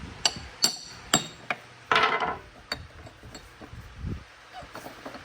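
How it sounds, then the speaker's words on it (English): Sharp metallic hammer taps on a part of a dirty Dodge Ram Cummins NV4500 manual transmission during teardown: several close, crisp strikes spaced irregularly, one heavier knock with a rattling ring, then softer clinks and shuffling. "Took one tap of a hammer."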